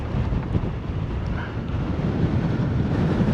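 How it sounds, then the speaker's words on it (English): Strong, gusty wind buffets the microphone on the coast at Costa Teguise, a continuous loud roar with faint surf beneath and no talking. "But that wind is... I'm sorry I keep mentioning it"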